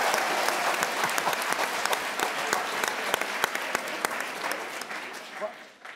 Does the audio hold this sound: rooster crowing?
no